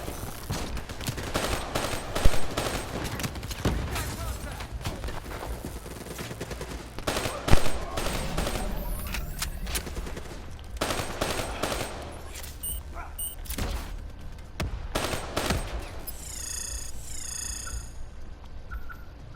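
Sustained automatic gunfire from a DLC weapon in the Call of Duty Black Ops 3 shooter video game: loud, dense bursts of rapid shots with a few heavier booms, continuing over game ambience with brief pauses.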